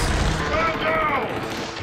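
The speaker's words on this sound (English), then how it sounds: "Where's all this gunfire coming from?" Gunfire in the video game Killzone Shadow Fall, a dense rattle of shots under a loud wash of battle noise lasting the whole stretch, with voices mixed in.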